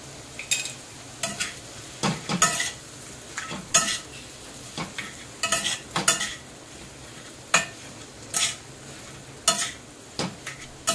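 Potato filling mashed and sautéed in a pan for stuffed capsicum, with repeated scraping, stirring and tapping strokes in an irregular rhythm over a soft sizzle, close and fairly loud with no talking.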